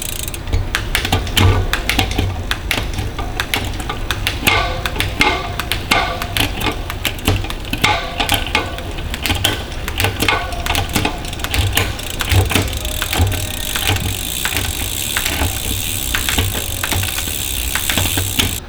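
A SRAM Force 1x bicycle drivetrain on a derailleur setup, shifting backward through the gears: continuous loud close-up mechanical clicking and ratcheting of chain and cogs running steadily without pause.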